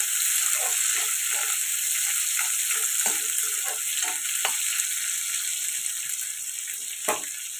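Two large chopped onions fry in a pan, giving a steady close sizzle with occasional soft stirring scrapes and one brief louder clatter near the end.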